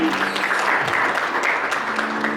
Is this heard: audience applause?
yes